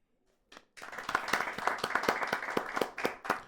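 An audience at a stand-up comedy show breaks into applause, a close, lively patter of many hands starting suddenly and continuing steadily for several seconds.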